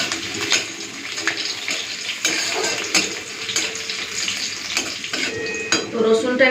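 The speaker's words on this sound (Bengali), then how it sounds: "আর দিয়ে দিয়েছি থেতো করা রসুন।" Dried red chilies and crushed garlic fry in hot oil in a home kitchen, a busy close sizzle mixed with metallic clinks of utensils and pans and a few sharp knocks.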